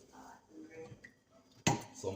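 A metal pan clanks against a stovetop with a bright, close knock after soft kitchen rustling and faint background noise.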